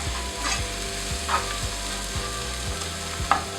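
Kingfish pieces fry in masala oil for a Mongolian-style fish fry, giving a continuous close sizzle with soft stirring scrapes and a few brief clinks, no talking.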